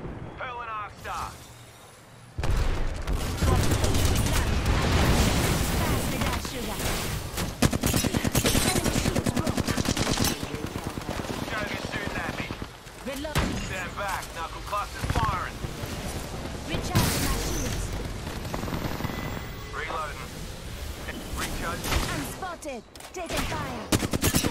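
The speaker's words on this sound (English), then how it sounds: "The enemies are shooting at me." Gunfire from enemies in a shooter video game: dense, loud bursts of automatic fire and rapid shots that continue almost without a break, with a voice talking over the shooting.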